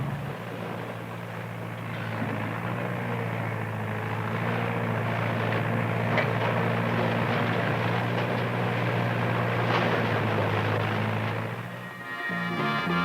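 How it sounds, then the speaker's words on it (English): A John Deere backhoe loader digs a trench in rocky, hard soil, its diesel engine droning steadily and loudly with a faint rise and fall before easing off near the end. "John Deere's backhoe loaders are digging for profit wherever they've been put to work"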